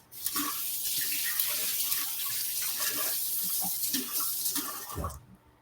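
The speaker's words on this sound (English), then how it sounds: "I'm going to rinse my hands and my knife again" Tap water runs steadily into a kitchen sink for about five seconds while hands and a knife are rinsed, with small splashes and clatter through the flow, then the tap shuts off.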